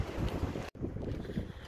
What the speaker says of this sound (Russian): потому что очень ветрено здесь